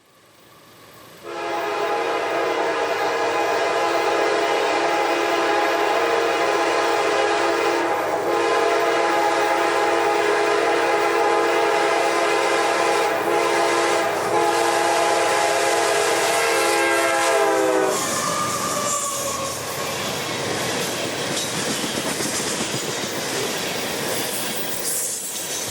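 Loud ethanol freight train 795 heading south near Folkston, Georgia, sounding a long sustained horn blast that cuts off around eighteen seconds, followed by heavy rumbling and clattering of rail cars rolling past close by.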